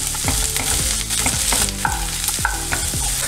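Two finely chopped medium onions tossed into a hot pan fry with a steady close sizzle, broken by repeated scraping and stirring strokes of a spatula against the pan, with no voices.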